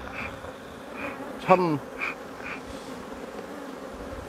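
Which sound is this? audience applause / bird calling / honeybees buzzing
honeybees buzzing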